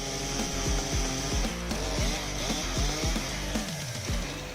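A big chainsaw cuts through giant logs: a loud, continuous engine drone bogs down and recovers in a steady rhythm of about eight close cutting pulses.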